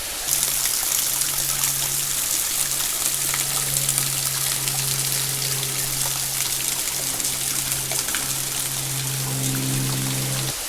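Steady rushing water pours down rocks, a continuous dense splashing roar like a waterfall, near Branson, with no voices.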